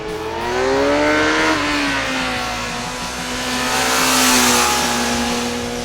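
A Kawasaki Z900 motorcycle engine revs hard with its tuned intake howl, a loud close steady drone climbing in pitch, easing briefly, then swelling again through the rev range.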